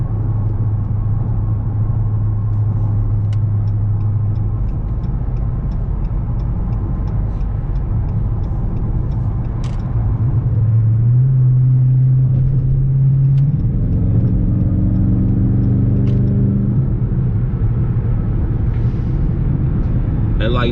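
Dodge Charger R/T cruising on a highway, heard from inside as a steady low engine drone and road rumble that rises in pitch partway through as the car speeds up.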